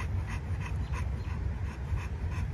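Several dogs being walked together pant rapidly and steadily, close to the microphone, with a faint whimper mixed into the quick rhythmic breathing.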